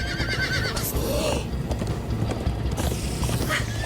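Horses in the Minecraft Story Mode video game whinny shrilly and gallop with steady hoof clatter under a busy game soundscape, with a second neigh near the end.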